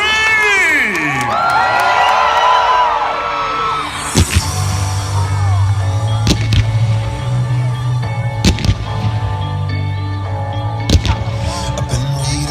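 A crowd at the Lottery West Fireworks Spectacular at the Perth Royal Show screams and cheers loudly, high shrieking voices rising then giving way to sharp bangs and a sustained low hum.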